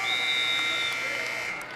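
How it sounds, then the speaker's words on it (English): A buzzer ends a round at a high school wrestling match, one steady tonal blast lasting about a second over a loud, continuous gym crowd roar. "Danny Weingar able to get in some final points just before the buzzer."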